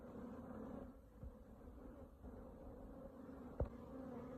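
Bees inside a shut hive box in the woods give a low, faint, continuous buzz, with a soft knock partway through.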